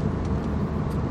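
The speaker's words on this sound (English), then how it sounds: "The engine noise doing 60 miles per hour is definitely acceptable" Dodge Dart GT cruising at 60 mph, a steady low engine and road drone heard from inside the cabin, moderate and unchanging over a brief moment.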